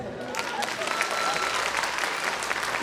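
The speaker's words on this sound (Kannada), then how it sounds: "ಇಷ್ಟು ಮೊದಲೇ ಚಪ್ಪಾಳೆ ತಟ್ಟಿದ್ರು" Audience applause at a live Kannada comedy stage show, a sustained, thick wash of many hands clapping at steady volume that swells slightly at the end, with faint voices mixed in.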